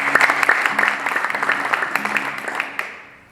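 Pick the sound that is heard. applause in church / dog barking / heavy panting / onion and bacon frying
applause in church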